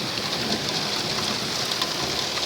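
Steady, dense rain pours during a summer storm, a continuous hiss of drops on surfaces with no breaks and no voices.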